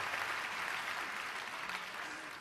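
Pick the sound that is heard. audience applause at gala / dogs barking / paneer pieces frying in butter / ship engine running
audience applause at gala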